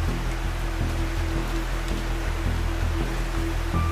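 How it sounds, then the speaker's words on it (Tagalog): Heavy rain pouring down with a dense, steady roar of water falling on surfaces, continuous and close, with no voices over it. "Mga ulay, sobrang lakas na ng ulan."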